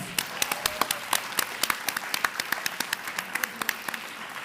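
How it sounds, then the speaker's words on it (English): Audience round of applause at a public sector debate competition grand finale, with distinct individual claps standing out over a softer crowd patter, fairly even and sustained for several seconds with no voices. "the teams have outdone themselves and are certainly deserving at least of a round of applause"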